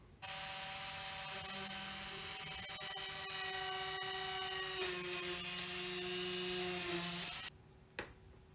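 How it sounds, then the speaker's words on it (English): A small drill whines steadily at high pitch for several seconds, drilling tiny holes for tiny hinge screws on a model aircraft, its tone shifting slightly under load, then stops, followed by a brief tap. "So I'm going to drill some tiny holes and screw those in"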